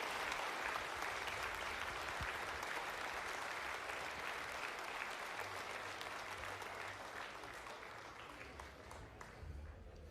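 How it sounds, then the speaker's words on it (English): An audience at the CitizenCon Star Citizen convention claps for cosplay contest entrants, with dense, sustained applause that slowly tapers off over ten seconds. "give a warm round of applause to everyone who entered"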